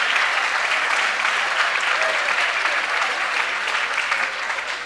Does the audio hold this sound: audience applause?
yes